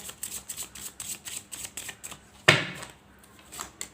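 Tarot cards shuffled by hand in a rapid riffling rhythm of short soft flicks, capped by one louder ruffling burst of cards snapping together, close and quiet with no talk.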